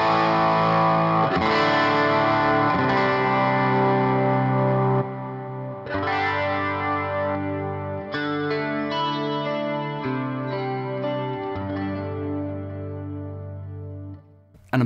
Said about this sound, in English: if I switch back on button 2, which is going to be my modulation, and I hold it down